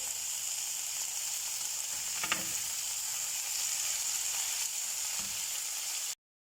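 Marinated steaks sizzle steadily in a pan after being flipped, a loud continuous hiss with one brief clink of a utensil, cutting off abruptly at the end.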